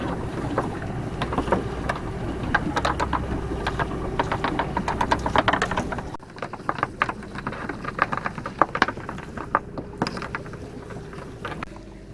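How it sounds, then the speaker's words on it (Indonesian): Engine of an Indonesian fishing boat running in reverse while a net is laid at sea, a steady low drone under wind and splashing water and clattering deck noises. "Ini posisi kapal bergerak mundur ya, jadi sambil mundur sambil dilepaskan pukatnya"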